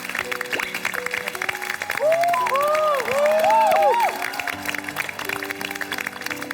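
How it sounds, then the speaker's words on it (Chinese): A studio audience on a Chinese debate show claps for a contestant, a swell of applause and crowd noise rising for about two seconds over background music before fading back. "我们也要把掌声送给陈明"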